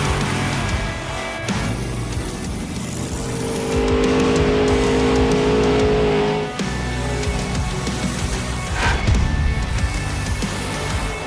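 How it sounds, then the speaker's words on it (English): A Monster Jam truck's engine roars loudly and steadily as it spins in tight donuts during a world-record attempt, the revving swelling and holding with faint tire noise underneath. "break a world record of the most revolutions done in a Monster Jam truck in a donut"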